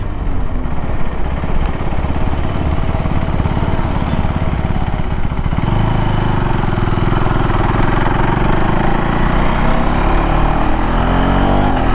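A 2025 KTM 390 Adventure cruises on the highway, its single-cylinder engine buzzing loud and steady near 7000 RPM, with rushing wind noise mixed in throughout.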